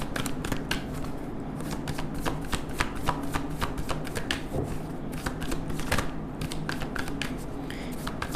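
Tarot cards shuffled steadily by hand in a continuous run of quick, close riffling flicks and slaps that stays at an even volume throughout.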